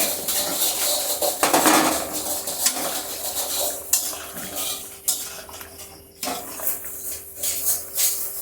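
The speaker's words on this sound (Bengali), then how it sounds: "দেখুন বন্ধুরা, ঝোলটা আমার ফুটে এসেছে" Pumpkin-seed fritters go into a boiling curry and are stirred, giving close metallic scraping and clinks of a spoon against the pot over a soft bubbling simmer, with no talk.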